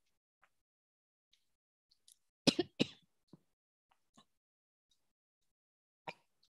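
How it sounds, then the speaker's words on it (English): A couple of sharp, close coughs in quick succession, then a lone smaller cough after a pause, against near silence with faint clicks. "I've got a bit of cough and cold"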